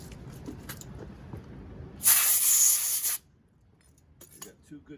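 A short, loud burst of compressed air blows out a freshly tapped hole on a Briggs EX engine, a sharp hiss lasting about a second between quieter workshop handling sounds.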